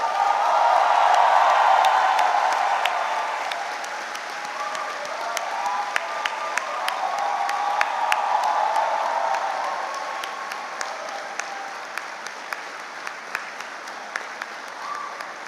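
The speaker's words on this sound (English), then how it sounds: "give them a very big round of applause and the loudest" A large audience at a graduation ceremony on a Hyderabad campus bursts into loud, sustained applause with some cheering, then the clapping gradually thins to scattered individual claps.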